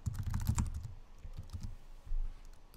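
A passphrase is typed on a computer keyboard: a quick run of soft key clicks, dense at first and then sparser, with a couple of louder thumps near the end.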